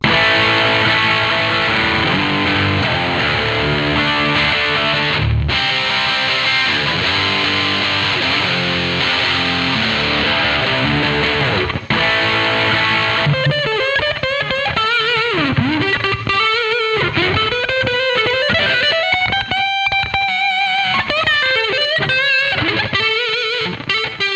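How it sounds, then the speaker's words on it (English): Electric guitar played through a Bazz Fuss fuzz pedal built in a gas mask, loud and saturated, first thick sustained chords, then buzzy, wavering single-note lead lines, with no talking. "it's time to see if the gas mask can sound better than a regular fuzz pedal"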